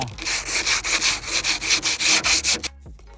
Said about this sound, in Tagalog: So, sunod na itong buhaton kay gamitan na ito og sandpaper.